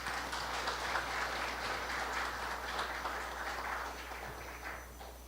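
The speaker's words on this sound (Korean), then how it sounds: "여러분 큰 박수로 부탁드립니다." A lecture audience applauds to welcome a speaker, giving steady, moderately faint clapping over a constant low electrical hum, easing slightly toward the end.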